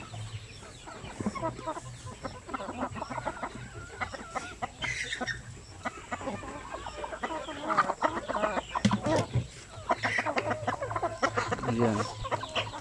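Young native chicks, about a month old, clucking and peeping in a farm rinse area, a steady busy chorus of short calls that swells louder toward the end under occasional faint handling noise.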